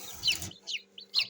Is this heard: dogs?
no